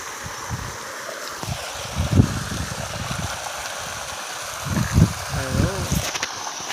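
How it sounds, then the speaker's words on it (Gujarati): Flood water rushes and roars in a steady broadband wash, with someone talking intermittently over it and some wind buffeting the microphone. "દેખો પાણી એટલું એટલું જાય છે અત્યારે."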